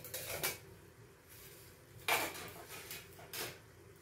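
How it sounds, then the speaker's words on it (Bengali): A metal lid is lifted off a cooking pot while making a fish curry, giving a few quiet clanks and clinks of metal on metal, spaced apart, with a sharper knock midway. "ঢাকনাটা খুলে নেবো।"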